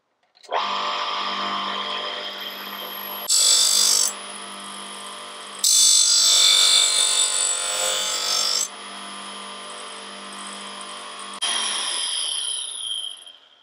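A lathe tool bit being ground on a grinding wheel gives a steady, harsh rasping whine that swells into louder bursts at intervals as the steel is pressed to the wheel, with no talking.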